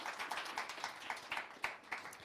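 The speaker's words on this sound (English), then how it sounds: "please give another warm round of applause to our panelists" A small audience gives a round of applause for panelists at a public health discussion event; faint, sparse claps in an uneven rhythm, quiet and brief.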